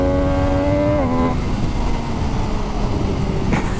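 An MV Agusta Dragster 800RR motorcycle, a 2021 model, rides by with a loud, steady engine drone whose pitch climbs then drops as it shifts, staying close and continuous with no talking.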